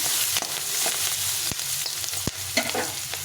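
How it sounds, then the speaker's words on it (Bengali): Potatoes frying in a pan with green chilies for a fish-head and cabbage ghonto, a steady close sizzle with a few sharp stirring clicks and spoon knocks scattered through. "এখন আমি দিয়ে দেবো এই আলুটা একটু ভেজে নিতে হবে"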